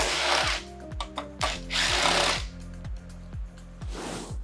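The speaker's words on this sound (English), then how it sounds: "Now we can use a 10mm socket to remove the tank." A power driver with a 10mm socket takes out motorcycle fuel tank bolts on an SG250, giving short repeated whirring bursts with sliding pitch. Each burst is close and fairly loud, with brief pauses in between.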